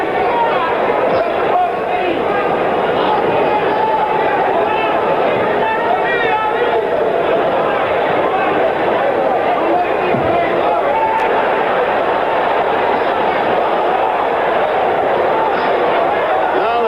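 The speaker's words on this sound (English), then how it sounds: "Crowd is not so elated. They'd like to see some action, and they're letting that fact be known vocally." Boxing arena crowd at a 1977 heavyweight championship fight, a dense, steady roar of voices and murmuring grumbles that fills the hall continuously at close range, with no single voice standing out.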